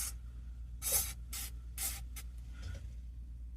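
Several short, sharp spritzes of cleaner hit a Marantz 2230 stereo receiver, each a close hissing burst separated by pauses over a low background hum.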